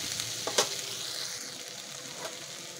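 Bitter gourd leaves hit a pan of frying eggplant, setting off a steady sizzle with a brief crackling burst near the start, close and moderately loud with no voices.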